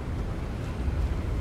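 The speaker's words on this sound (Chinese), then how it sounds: "天台的风好大，好冷" Steady, roaring wind sweeps across a rooftop in Hogwarts Legacy, a dense, unbroken rush of air that fills the whole moment without any talk.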